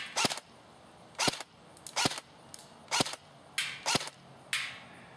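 AEG SR-15 airsoft rifle firing semi-auto at a target, about eight sharp, separate snapping shots spaced roughly half a second to a second apart, close and crisp against a quiet background.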